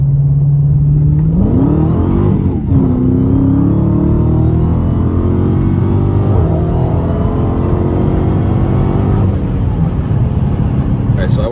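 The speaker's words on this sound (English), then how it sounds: "2016 Dodge Challenger Hellcat, and we're gonna do a quick little 30, or actually we'll do a 40 so I don't spin too much." A 2016 Dodge Challenger Hellcat with a misfiring engine revs up and accelerates from a roll, its loud engine note climbing in pitch then holding a steady roar close by, with a voice talking over it.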